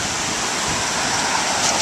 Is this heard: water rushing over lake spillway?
yes